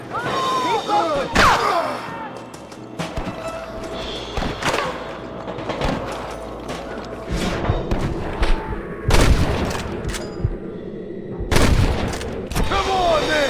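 Scattered gunshots and heavy thuds from a Red Dead Redemption shootout, irregular sharp cracks rising above a busy mix of game sounds and effects, loud and close, with several distinct blasts near the end.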